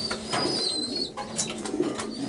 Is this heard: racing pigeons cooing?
yes